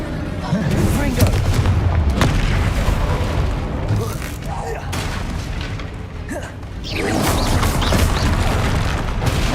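Repeated Confringo blasting spells exploding in combat in the game Hogwarts Legacy, deep booming blasts and bursts in a loud, busy fight.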